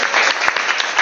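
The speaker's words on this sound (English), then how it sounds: "Let's give a round of applause again to our" Brief burst of dense audience clapping at a Toastmasters club meeting, loud and continuous for about a second.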